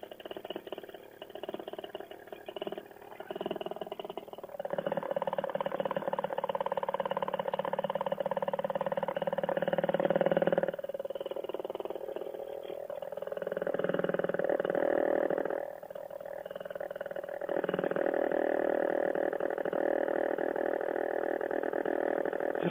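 Ultralight aircraft motor warming up before a tailwind takeoff, a steady buzzing drone that swells and dips in pitch over about twenty seconds, with someone talking over it at times.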